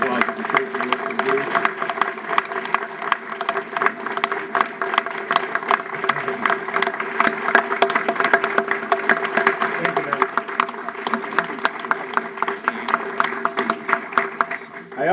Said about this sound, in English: So give the Parkers a great round of applause.